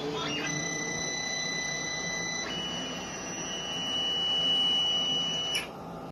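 A Creality Ender 5-S1 3D printer runs with a steady motor whine and whirring tones that shift in pitch partway through, over a constant mechanical hum, ending in a brief click.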